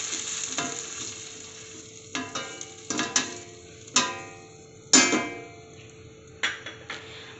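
Tomato puree cooks with browned onions in a hot pan, a low steady sizzle broken by a run of distinct scraping stirs and knocks of a spoon against the pan, close and with no talking.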